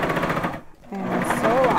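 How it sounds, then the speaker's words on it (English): A Baby Lock Vibrant serger stitches a seam up close with a busy, rattling whir that drops out briefly partway through and then resumes steadily, while a voice seems to talk over it. "And now I'm going to sew that seam with the serger"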